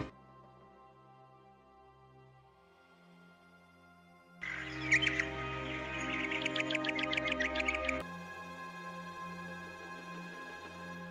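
A crow calls in a Hindi cartoon story: a burst of harsh, repeated cawing sits in the middle of the passage, between quieter, tonal background music, with no talking.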